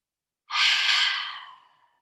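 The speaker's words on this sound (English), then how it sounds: "Breathing in and breathing out." A single long, soft breath during yoga practice, an audible airy exhale that starts abruptly, swells, then tapers away into silence over about a second.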